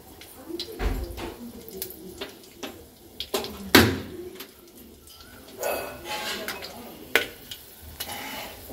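Whole garam masala with dried red chillies, bay leaf, cardamom, cloves and cinnamon fries in oil left over from frying potatoes for mutton curry. It gives a soft, uneven sizzle with scattered crackles and pops.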